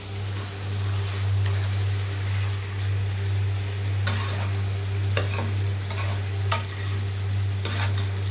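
Mutton fried with spices in a pan gives a continuous close sizzle over a strong low hum, with a few short scraping stirs clattering through it.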